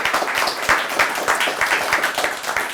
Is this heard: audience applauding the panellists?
yes